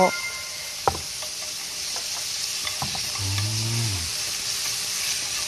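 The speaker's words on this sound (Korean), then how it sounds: "안에 들어가는 재료들을 이렇게 충분히 볶아내줍니다" Onion and meat stir-frying for a Mexican quesadilla filling, giving a steady close sizzle with a couple of sharp knocks from a utensil on the pan and a short low tone partway through.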